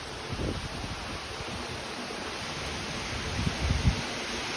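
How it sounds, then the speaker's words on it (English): Heavy rain in a windy thunderstorm lashes a balcony where potted Hoya plants stand, a steady, dense hiss of rain and gusting wind filling the whole stretch, with a few low buffeting thumps near the end. "the rain is a very strong, it's very windy, and the rain is splashing in towards my Hoyas"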